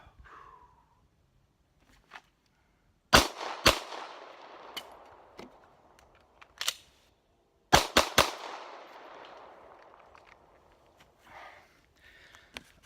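Sharp handgun shots on an outdoor shooting range during a reload drill: a pair of quick shots, a pause, a few single shots, then a tight string of three or four, each with a short echoing tail and quiet gaps between.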